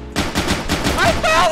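A loud, close burst of gunfire from the video game Intruder, rapid repeated shots packed into under two seconds, with no voice.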